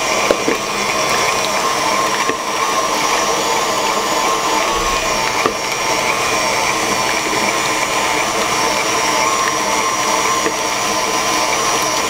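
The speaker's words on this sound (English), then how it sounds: "So I start here first with the butter, which I would be creaming" An electric mixer creams butter on medium speed, a steady continuous motor whir with a faint churning texture, close and unchanging throughout, with no talking.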